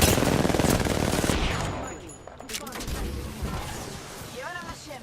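Rapid R99 submachine gun fire in a video game, a loud close stream of shots that thins out into scattered impacts and crashes, with a voice talking faintly underneath.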